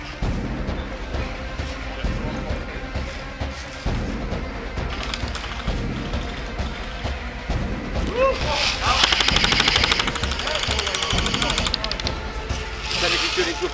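Airsoft gunfire during a large outdoor skirmish game at Catterick: bursts of rapid clicking shots and single cracks, fairly close, mixed with people shouting and talking throughout.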